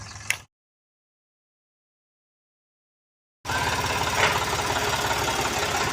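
A farm tractor's engine runs steadily at close range, a loud chugging drone that begins after a stretch of silence and keeps going without a break.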